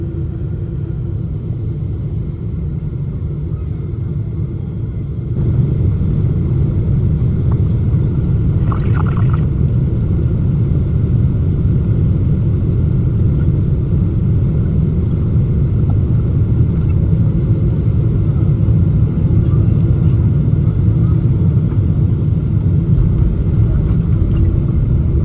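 A steady, loud low engine roar of a Boeing 777-300 landing rumbles continuously, deepening after a few seconds, heard from inside the economy cabin.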